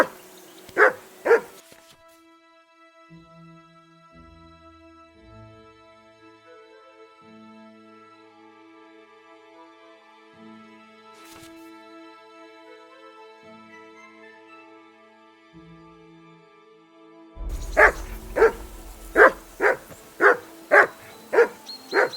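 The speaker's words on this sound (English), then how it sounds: "That barking was a pain in the ass." A dog in Kingdom Come Deliverance 2 barks sharply twice, then after a quiet stretch of soft game music lets out a rapid run of about seven loud barks, close and alone.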